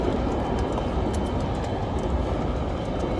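A train rolls past on a railway beside a construction site, a loud, steady rumble with faint rhythmic wheel clatter, close and continuous, with no voices.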